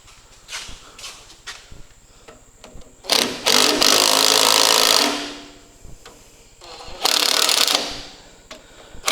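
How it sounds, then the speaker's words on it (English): An impact wrench runs on the lift cylinder nut of a Ferguson TE20 tractor, two loud rattling bursts of a couple of seconds each, close by, with quieter clicks and handling noises between them. "we'll just get a little nut gun and just give that a quick little squirt"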